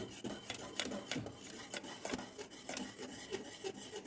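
Jowar flour being stirred briskly into water in a pot for papad dough, quick scraping and rubbing strokes in an uneven rhythm, close and fairly quiet.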